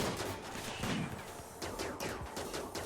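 Dense bursts of rapid gunfire aimed at a ship in the video game Rimworld, overlapping volleys crackling continuously for about three seconds at a moderate level, with no talking.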